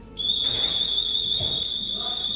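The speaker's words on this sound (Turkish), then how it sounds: "Alarmını da öttürdüm" A purple tablet's alarm shrills as a steady, piercing high-pitched tone that starts abruptly and holds without pause, with faint background noise beneath it.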